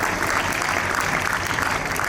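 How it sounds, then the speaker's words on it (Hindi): Applause from the audience at a school annual function, a steady wash of clapping from many hands held at even loudness for a couple of seconds, with a brief thump near the end. "तालियों की गड़गड़ाहट में कोई भी कमी ना हो"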